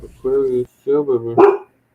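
A dog barks at the neighbours nearby, giving a few loud, deep, drawn-out woofs in quick succession, with the last one rougher and breaking up before silence.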